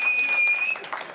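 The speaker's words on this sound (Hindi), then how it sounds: "ये उन्होंने ही ताली बजाई जिनने ब्लैक में खरीदी थी।" Audience at a Hindi poetry recital (kavi sammelan) breaks into a short, loud burst of clapping that fades toward the end.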